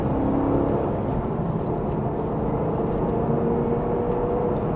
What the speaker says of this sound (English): Speaking of sound, the sound you hear from this engine